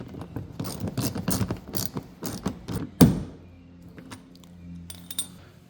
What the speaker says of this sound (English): you should be able to just hand tighten it to start it, and we can finish it with the wrench